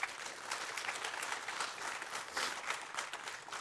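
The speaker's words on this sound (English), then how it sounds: "let's give him a round of applause as well" An audience applauds steadily for several seconds, a dense wash of clapping heard from a moderate distance, at a university ethics symposium.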